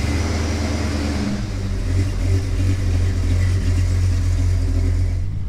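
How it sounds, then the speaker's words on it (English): A 2004 Mercury Grand Marquis engine idles steadily up close as the car backs out of a garage, a continuous low rumble with a slight rise partway through and no talking. "So we're gonna get this backed out so that we can get it warmed up to temperature without filling the garage full of exhaust"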